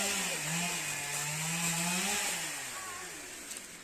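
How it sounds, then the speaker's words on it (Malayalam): A chainsaw cuts down a tree nearby, its engine droning steadily and shifting in pitch as it works through the wood, heard alone without talking. "അവിടെ മരം മുറിക്കുകയാണ്"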